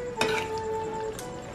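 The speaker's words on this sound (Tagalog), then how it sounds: "nilagay na natin itong patatas. So haluin natin yan" Potatoes are stirred in a cooking pan over the heat, with a steady close sizzle and two quick scraping strokes of the utensil, without any talk.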